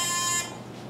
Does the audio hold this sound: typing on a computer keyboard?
no